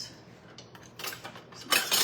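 A metal spoon clinks and scrapes against a pan of pasta alla gricia with pecorino, a few short bright clatters, the loudest near the end, close up and with no voice over them.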